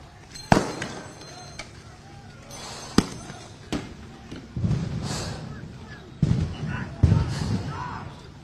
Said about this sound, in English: you're hearing the bangs of flashbang grenades echoing on some distant block